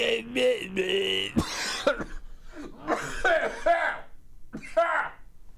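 A person talks and breaks into a rough, hacking smoker's-style cough partway through, with chuckling between spoken phrases.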